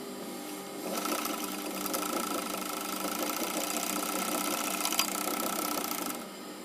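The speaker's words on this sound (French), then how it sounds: "Allumer ma machine et faire un essai de point." Industrial overlock serger running a test stitch, a steady fast mechanical whirring hum with rapid stitching chatter that starts abruptly, holds evenly for several seconds, then stops, close and alone without talk.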